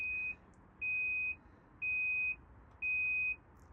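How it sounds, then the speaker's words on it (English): Four steady electronic beeps from a BLACK+DECKER portable washing machine signalling cycle completion, each about half a second long, evenly spaced and clear against a quiet background. "When the cycle is complete, you'll hear a series of beeps"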